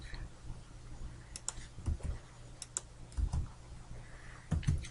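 Computer keyboard keys and mouse buttons clicking while modeling Sonic the Hedgehog in 3D software, sparse clusters of soft, close taps and clicks in irregular bursts over a low steady hum.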